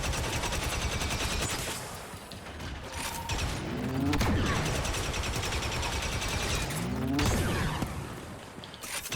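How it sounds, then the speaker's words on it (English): Video game gunfire crackles in rapid repeated bursts, loud and sustained across the scene, mixed with mechanical clatter and swelling in waves. "I'm literally shooting this guy in the face"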